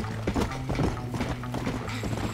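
Horse hooves clip-clop in the video game Red Dead Redemption, a quick, even run of close, distinct hoof strikes over a low rumbling background.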